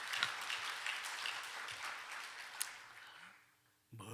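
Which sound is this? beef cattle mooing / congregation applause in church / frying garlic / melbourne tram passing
congregation applause in church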